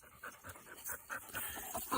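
A yearling dog pants softly in quick rhythmic breaths, close by and faint, with a slight whine mixed in.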